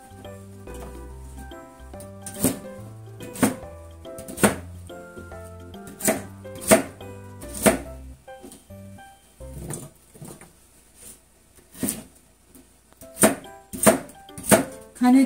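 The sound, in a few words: chopping vegetables for vegetable soup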